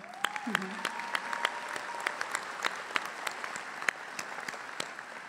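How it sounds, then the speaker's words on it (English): Commencement audience at an FSU Panama City ceremony applauding the wind band, scattered individual claps popping over a soft background, fairly distant, with a brief voice and a gliding tone near the start. "let's give them an applause."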